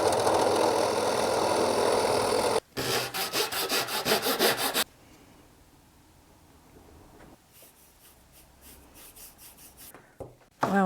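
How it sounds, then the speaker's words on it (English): A drill boring a hole in the bottom of a mason jar, grinding loudly in bursts, first continuous and then pulsing, before falling to quiet handling noises and a final short burst. "drill a hole in the bottom, put a dowel in"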